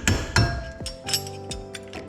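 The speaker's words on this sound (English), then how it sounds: "Sometimes you need to hammer them in just a little bit." Sharp metallic hammer taps drive a pin through a four-piston brake caliper and pads on a Dodge Charger or Challenger, about six ringing strikes in an uneven rhythm, close and fairly loud.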